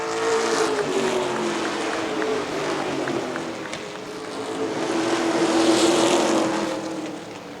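Pro stock race cars roar off at the green flag of a short-track heat race, with a continuous engine drone that swells and fades as the pack passes at middle distance.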